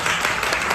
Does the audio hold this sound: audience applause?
yes